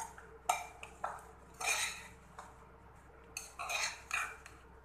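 A spoon clinks and scrapes against a pan while coriander leaves are stirred into a potato and fava bean curry, giving several sharp metallic taps and short scraping strokes at close range over a low steady hum.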